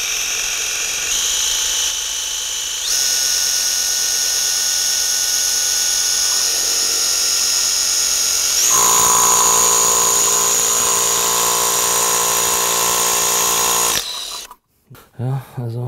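A drill whines steadily and loudly for over ten seconds as it bores holes into a wall, its pitch shifting, then cuts off, followed by a few short knocks.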